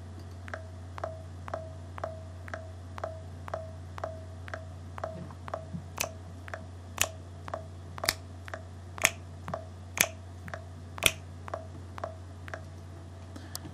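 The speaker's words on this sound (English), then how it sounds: "with my metronome enabled, when I hit record, I'll hear a little bit of count in before recording begins" Logic Pro metronome count-in, a steady series of sharp electronic clicks at an even tempo, faint at first and then louder accented ticks alone over a low steady hum.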